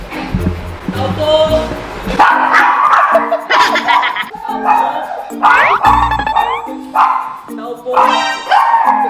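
A dog barks repeatedly and loudly at close range during a prank at a house door, with sharp barks scattered throughout while people talk and laugh over them.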